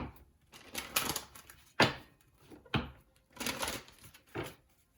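Crisp bursts of tarot cards riffling and snapping together, several quick shuffles in a row, close and fairly loud with short pauses between.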